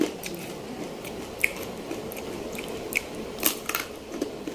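Someone bites and chews freshly made, still-warm pop rice puffed from plain rice, giving soft crisp crunches at irregular intervals, close up and quiet with no talking.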